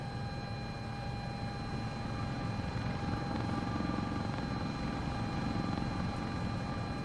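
An Airbus Eurocopter AS350 helicopter flies with a continuous, close rotor thrum and steady turbine whine layered over dense broadband noise, loud and unbroken throughout.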